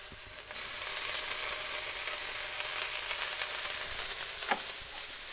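Tomato puree goes into a hot pan while cooking chicken dopiaza, giving a steady, close sizzle and fry with a few brief stirring scrapes and no talking.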